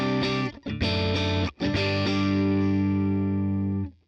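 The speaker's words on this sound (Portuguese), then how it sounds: "Então esse é o som do Vox já com compressor e o equalizador." Electric guitar through a Vox amp simulation on an Ampero Mini, with compressor, equalizer and noise gate on. Loud, close and with no talking: a few quick strums, then one chord left to ring out for several seconds.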